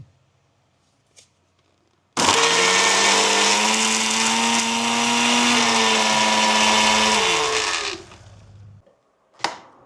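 A kitchen mixer grinder blending ingredients with water, starting abruptly after a near-silent pause and running loud and steady for about six seconds with a whining motor tone, then stopping, followed by a faint knock.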